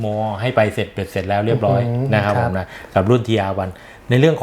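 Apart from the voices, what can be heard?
No distinct noise like a dog, phone or traffic.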